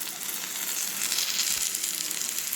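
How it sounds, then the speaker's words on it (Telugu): Chicken frying in a pan until roasted, a dense continuous sizzle with a faint crackle and a soft stir midway, close and even, no voices. "ఇట్లా రోస్ట్ అయ్యేదాకా ఈ కలర్కి వచ్చేదాకా వేయించుకొని"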